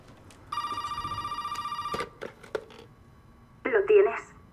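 A telephone rings in the Resident Evil 7 horror video game, one steady electronic ring lasting about a second and a half, followed by a few clicks and a short burst of voice.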